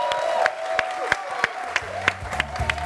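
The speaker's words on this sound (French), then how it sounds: "On applaudit très fort s'il vous plaît" A television studio audience applauds and cheers for the singer, a continuous crowd wash punctuated by regular sharp rhythmic beats, with music entering beneath toward the end.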